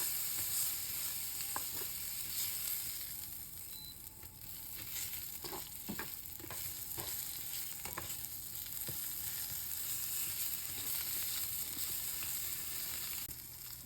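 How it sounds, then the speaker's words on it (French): Sliced onions frying in a pan as they are turned, a soft, steady sizzle with scattered scraping and stirring clicks from the utensil. "Comme ça je retourne les oignons."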